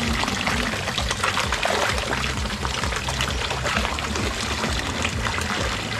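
Water poured continuously over a dirty pan to rinse it clean, a steady loud splashing trickle with no pauses and no talking.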